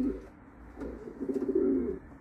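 A homing pigeon coos in low, soft bursts, with a faint coo early on and a fuller, louder rolling coo near the end. No one speaks.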